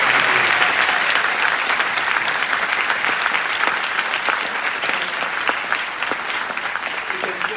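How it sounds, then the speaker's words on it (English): Sustained, dense audience applause following a Q&A session with astronaut Eileen Collins, many hands clapping continuously at a steady level throughout with a faint crowd murmur. "Well, a big round of applause for the"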